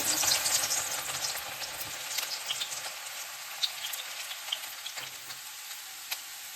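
Finely chopped garlic frying in hot oil over medium heat for baingan bharta, with a bright sizzle that starts strong and slowly fades, plus a few soft stirring taps.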